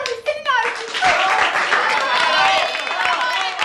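Studio audience clapping along with a crowd on a Turkish TV comedy set, a dense burst of hands that starts after a few shouted words and keeps going at steady loudness under the noise.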